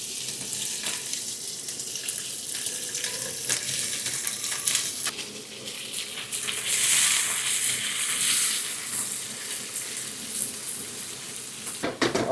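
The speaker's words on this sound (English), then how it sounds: "wait for the pan to get really hot before we put the meat in." Meat fries in hot oil, about five to six tablespoons, in a pan. A loud, continuous sizzling hiss swells and fades with movement, with no talk over it.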